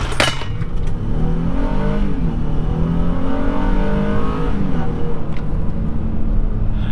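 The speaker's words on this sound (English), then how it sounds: "it can get up to speed fairly quick on you" A Honda Ridgeline pickup truck accelerates hard, its engine note rising steadily and loud and close throughout, with road and cabin rumble underneath and a sharp knock near the start.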